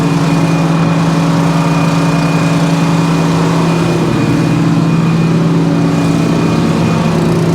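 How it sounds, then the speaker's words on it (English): A loud, steady sawdust blower engine on a sawmill drones continuously with a strong low hum and rough exhaust rumble, running close by without pause. "you can hear that exhaust on that sawdust blower. Just making a bunch of racket."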